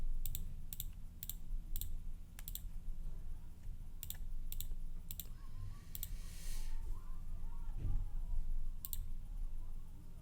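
Computer mouse clicks on on-screen buttons in a block-coding editor: a series of sharp, close, dry clicks in loose bursts over a low steady hum, with no talking.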